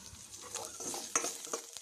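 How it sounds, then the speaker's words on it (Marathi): Apple chutney with raisins, ginger and garlic is stirred in a pan over a low flame, giving soft, irregular scraping and stirring strokes over a faint continuous sizzle, close up with no voices. "कंटिन्यू फिरवत अगदी कमी वेळेत तयार होतं अद्रक लसूण आणि किशमिश छान असं एक मिनिटापर्यंत छान असं फिरवत राहा"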